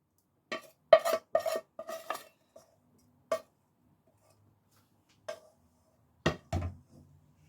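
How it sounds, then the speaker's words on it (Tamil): Sautéed onions tipped into butter in a pan for a sandwich filling: a handful of distinct clinks and scrapes of utensil against cookware, clustered early and then sparse, separated by near silence, with no audible sizzle. "இப்போ நான் இந்த பட்டரில் இந்த வெங்காயம் வதக்கி வச்சது அதுகளையும் சேர்க்கிறேன்."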